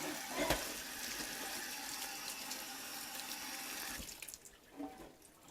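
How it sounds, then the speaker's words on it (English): Cold tap water runs steadily into a cooking pot as it is rinsed after draining pasta, a close, continuous splashing rush with a few knocks and shifts in the flow, and no talking. "Keep the pot there though, and using some cold water, just rinse that off."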